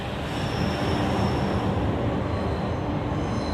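A Eurostar high-speed train slowing on British track, giving a steady loud rumble of wheels and running gear with a faint high whine above. The sound is continuous and close, with no voices.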